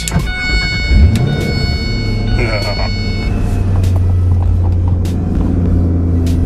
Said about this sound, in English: Let's fire this thing up and see how it sounds on the inside.